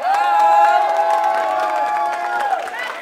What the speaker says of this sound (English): Let's give our good looking people a big round of applause right now.